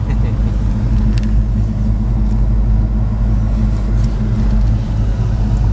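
A 1965 Plymouth Belvedere convertible with a 440 engine and four-speed cruises on a freeway, its engine droning low and steady under constant road and wind noise, heard from inside the car.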